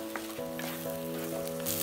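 Sliced mushrooms, about 200 grams, sauté in a pan as the start of a mushroom kuzhambu, giving a soft, steady sizzle that stays faint and close throughout.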